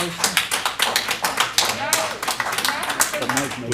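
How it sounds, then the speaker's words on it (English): Applause from an audience at a school board meeting, a short burst of brisk clapping from several people, loud and close, with voices audible under and around it. "No applause right now, please."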